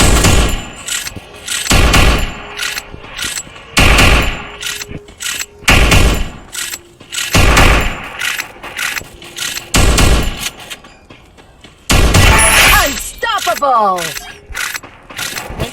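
Gunfire in a ranked-mode video game arrives as repeated loud bursts of rapid shots, separated by short gaps with mechanical clicks, and a voice speaks between them.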